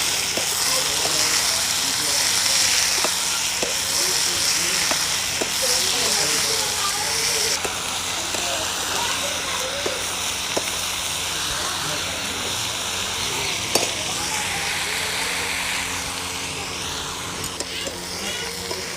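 Papaya flower vegetable stir-fried in a pan, giving a steady, close sizzle that runs throughout with occasional clicks, and a voice faintly present at times.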